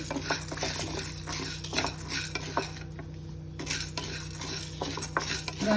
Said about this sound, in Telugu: పప్పు వేయించుకుందాము